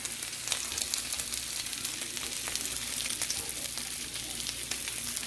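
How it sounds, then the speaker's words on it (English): Crab cakes frying in a hot skillet give a steady, close crackling sizzle with dense spitting pops throughout and no talking over it. "I'm gonna add my crab cakes. Nice and tall. You see they're already sizzling."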